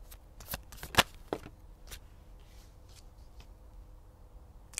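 Tarot cards are shuffled by hand in quiet surroundings, with a series of crisp riffling bursts and taps, one sharp louder flick near the start, then lighter scattered card sounds.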